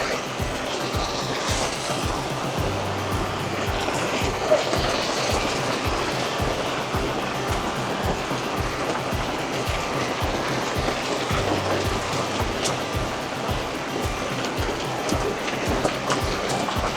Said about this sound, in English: standing next to a good waterfall for a hike, listening to the sound of the rushing water